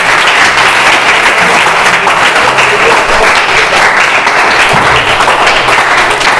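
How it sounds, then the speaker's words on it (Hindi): Loud, sustained applause from a church youth gathering's audience, dense steady clapping filling the whole stretch without pause. "अपने आप के लिए एक जोरदार ताली बजाओ"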